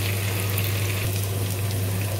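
Onion, garlic and green chilies frying in a pan, giving a dense, steady sizzle with a low constant hum beneath it, close and fairly loud, no voices.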